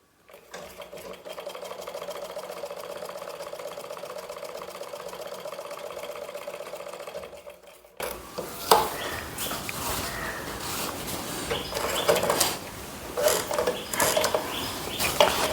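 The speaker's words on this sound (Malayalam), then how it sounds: "അപ്പം നമുക്ക് ഒന്ന് തയ്ച്ച് നോക്കാം എന്തായാലും" A home sewing machine stitches while its upper and lower thread tension is being adjusted, with a steady mechanical whirr for about eight seconds, then louder, busier clattering and knocking.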